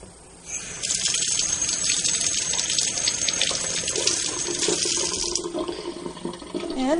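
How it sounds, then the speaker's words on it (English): A penny being rinsed under a running tap, with a steady loud gush of water that starts abruptly and flows for several seconds before easing off at the end. "Take this penny, I'm gonna rinse it off."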